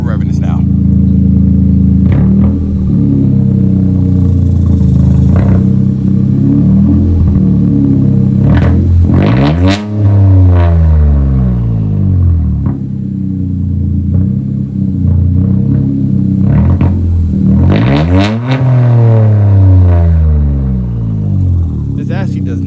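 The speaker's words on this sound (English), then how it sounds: "All right, we're revving this now." A Toyota GR Corolla engine with a Megan Racing aftermarket exhaust rumbles and revs hard twice, rising to a throaty roar and falling back, with a deep, loud exhaust note throughout.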